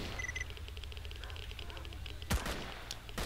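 Gunfire in S.T.A.L.K.E.R.: Call of Pripyat as bandits fight off mutants: a few sharp, distant-sounding bursts of shots over a steady low in-game ambient rumble, with no talking.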